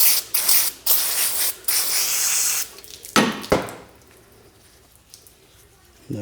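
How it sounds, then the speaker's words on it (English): An aerosol can of brake cleaner sprays onto an ATV drain plug in several hissing bursts of varying length, loud and close, followed by quieter dripping and rustling. "I'm just going to take some brake clean and soak it down,"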